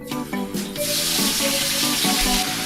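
Pork for Chinese BBQ pork frying in hot oil, a steady broadband sizzle that swells after the first second and stays loud, with faint clinks and background music-like tones underneath; no talking.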